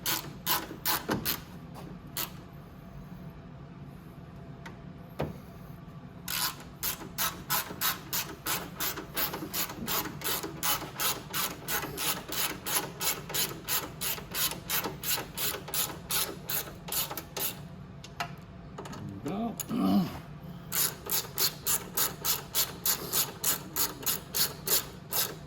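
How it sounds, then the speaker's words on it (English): Rapid ratchet wrench clicking while a bolt and nut are tightened on a Venom 125cc mini jeep, long steady runs of close, loud clicks broken by short pauses and a brief metallic rub near the end. "And we just tighten this bolt and nut."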